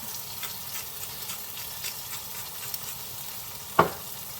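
Onion and tomato stir-fry with spices in a pan while cooking sardines, a steady soft sizzle under occasional light scraping, with one sharp utensil clack near the end.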